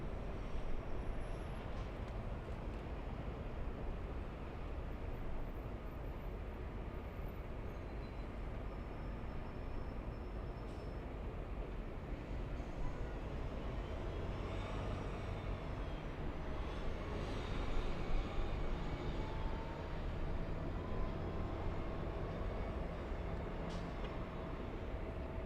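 A Southwest Airlines airliner lined up on the runway at LAX gives off a faint, distant, steady jet rumble that swells slightly toward the end, with no voices.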